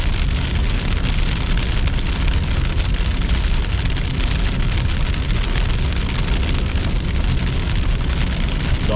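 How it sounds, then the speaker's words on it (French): Dense, steady hiss of heavy rain with hail during a Kansas thunderstorm, loud and continuous throughout with no voices. "quand on dit que les orages lèvent et il y a de la grêle, ici, là, c'est typique"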